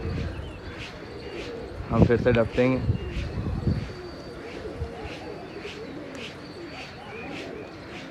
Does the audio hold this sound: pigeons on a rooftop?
yes